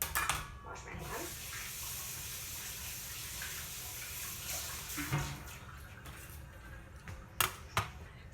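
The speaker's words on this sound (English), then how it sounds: "Wash my hands." Water runs from a kitchen tap as hands are washed, a steady, soft rushing stream with small splashes and a few clunks near the end, heard fairly close.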